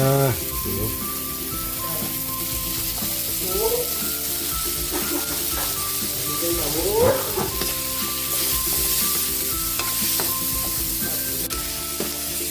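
Pork and smoked tinapa fish sizzle steadily in a hot pan, a continuous loud frying hiss with occasional stirring scrapes and clinks, while a voice talks intermittently over it.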